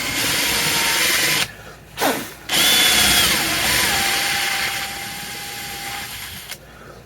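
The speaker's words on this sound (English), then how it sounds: "We're going to take this, slowly drill it to our depth on each one of these." A power drill bores holes while a neck is installed on a bass guitar, whining steadily in long runs broken by brief pauses and a sharp restart, loud and near.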